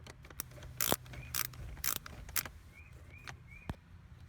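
Screw being turned inside a Subaru WRX GD steering wheel while the airbag is pulled out: a string of small, close ratcheting clicks and scrapes, with several sharp bursts and thin squeaks over a low, steady background hum.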